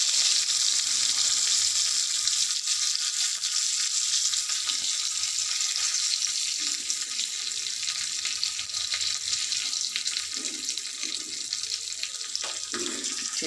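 Curry leaves dropped into hot oil while making ash gourd chutney give a loud, continuous bright sizzling hiss that holds steady throughout with no talking.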